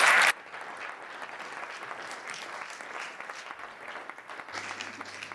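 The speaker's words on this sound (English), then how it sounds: "Let's have one more round of applause for all our speakers, please." Sustained audience applause at an in-person sales leader awards evening, a steady wash of clapping through the room after a brief louder burst at the start, with no talk over it.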